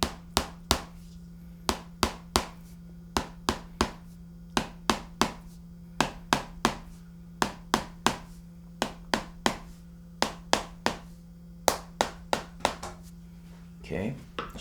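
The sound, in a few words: light hammer taps along the paraspinal muscles during massage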